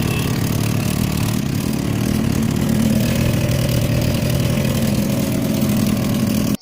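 A Bajaj Pulsar NS 160 motorcycle with a recently rebored engine and internal knocking idles steadily up close, a loud continuous mid-pitched engine drone with a rough clattering texture throughout.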